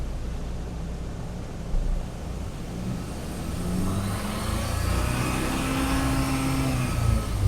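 Hyundai Santa Fe engine idling and then revved to raise the RPM while an oxygen sensor fault is checked, the rumble climbing in pitch and loudness in the second half, close by with no talk.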